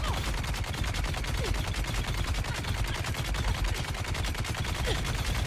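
Relentless automatic gunfire from the video game Dune: Awakening, a fast and evenly spaced string of close, loud shots running without a break while several magazines are emptied into one enemy.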